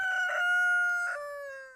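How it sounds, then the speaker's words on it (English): A rooster on a farm with dozens of chickens crows nearby, one long drawn-out call with brief clucks mixed in. "60 plus chickens"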